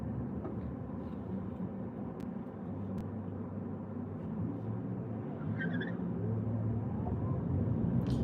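A car cruises along a Florida road, its steady low rumble of tyres and engine heard from inside and swelling slightly louder toward the end.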